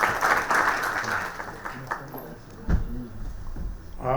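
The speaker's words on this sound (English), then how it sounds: "a huge round of applause" A crowd applauds steadily, the clapping fading out partway through, followed by a sharp knock and some low murmuring.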